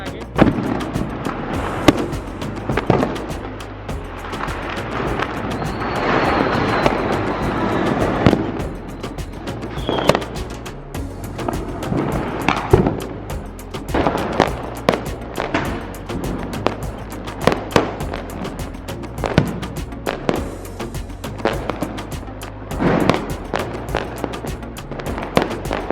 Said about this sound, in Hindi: तो दिल्ली में तो फुल ऑन पटाखे चल रहे हैं